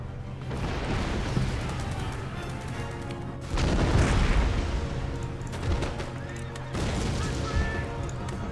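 In the Empire: Total War video game, artillery booms and volleys of musket fire crackle in dense, overlapping bursts. Heavy blasts hit hardest midway through the continuous battle din, with faint voices mixed underneath.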